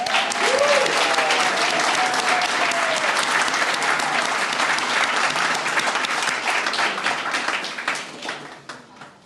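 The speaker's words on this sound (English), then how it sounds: "Big round of applause." At an annual meeting awards ceremony, an audience claps in a loud sustained round, a brief voice over it early on, the applause thinning and fading toward the end.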